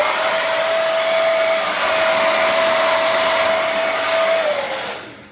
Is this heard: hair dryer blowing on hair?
yes